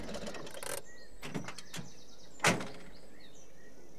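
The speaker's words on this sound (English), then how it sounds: "The door's on the other side, Granny Dryden." A cartoon bus door in an animated Postman Pat episode opens with mechanical clunks and a sliding hiss, followed by a single louder clack that stands out alone against a quiet background.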